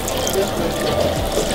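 Running water splashes and trickles over red lentils being rinsed for tarka dal, a short, close, steady pour with faint liquid gurgles.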